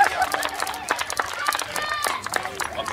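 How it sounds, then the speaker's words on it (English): An audience at a primary school fair claps, with a rapid patter of many hands under a loud voice speaking over a PA. "Okay, Marist Primary, I need you to give us a really, really loud clap."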